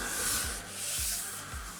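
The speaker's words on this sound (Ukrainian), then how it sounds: "Нам треба його шліфувати." Rhythmic back-and-forth rubbing strokes, about three passes, a soft close-up scraping of sandpaper worked by hand over a scratched Range Rover Velar headlight lens.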